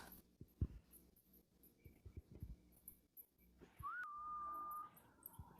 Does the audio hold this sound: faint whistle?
yes